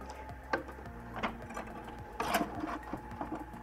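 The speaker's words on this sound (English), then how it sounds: "I just need to get the filament out from the printhead itself" A ZYYX pro 3D printer draws filament back out of its printhead with a faint, steady motor whir, broken by irregular soft clicks and knocks from the mechanism, and no one talking.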